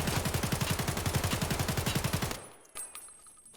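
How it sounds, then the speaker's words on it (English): Rapid, evenly spaced gunshots from a cheap starter gun in Escape from Tarkov, loud and close, a steady string of about two dozen shots that cuts off abruptly into quiet. "Single fire, right where the laser is."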